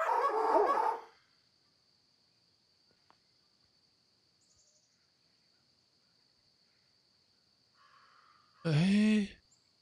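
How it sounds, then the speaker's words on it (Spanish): A single short dog bark in the video game INFINI comes near the end, loud and close, after a burst of game sound at the start and a long, nearly silent stretch crossed by a thin high tone. "¿Y por qué hay perros ladrando,"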